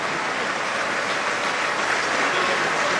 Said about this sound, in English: So warm applause for the youngster.